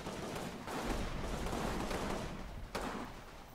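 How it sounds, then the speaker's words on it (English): BAR automatic rifle fire in the Combat Mission wargame, a dense continuous crackle of battlefield gunfire with one sharper crack near the end, steady and loud throughout. "There's a BAR opening up."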